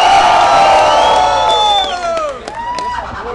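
A crowd at a rap battle cheers loudly for MC Rapman, voices shouting and whooping with rising and falling yells, the roar easing slightly toward the end.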